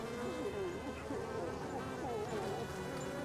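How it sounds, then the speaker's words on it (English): A bee swarm released by a triggered trap in the video game Evil Genius 2 gives a steady, dense buzzing drone that holds evenly throughout at a moderate level. "A trap has been triggered. Here we go, bees. Oh my God, bees."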